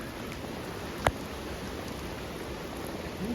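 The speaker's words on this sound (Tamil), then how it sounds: "மழையாக இருக்குது." Rain falls steadily around hikers trekking in Goa, a soft even hiss with no speech, broken once by a single sharp knock near the start.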